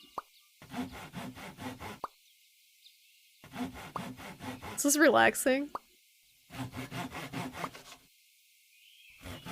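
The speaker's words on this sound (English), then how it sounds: "Oh, it makes little sawing noises." Rhythmic sawing of wood in the video game APICO, short rasping strokes repeating in bursts between pauses, with a person talking over them.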